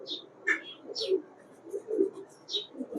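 Pakistani highflyer pigeons coo close by in a soft, low, repeated rhythm, mixed with brief higher chirps and squeaks from the birds.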